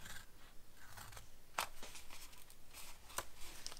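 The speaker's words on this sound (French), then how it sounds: "Donc on va venir couper déjà le long de tous les petits carrés." Scissors snip through a cardboard template for a small gift box, with several distinct crisp cuts at irregular intervals. The cuts are close and fairly quiet against a soft room background.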